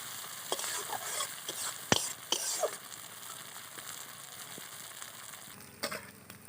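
Spices sizzle in a pan while being fried for a village-style duck curry, giving a steady, moderate crackle with occasional sharp clinks and scrapes from stirring close by.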